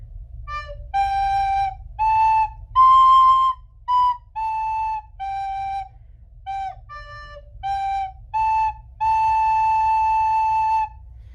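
A recorder plays a series of separate tongued notes, each clearly started, a simple tune with short gaps, clean and close with no talking.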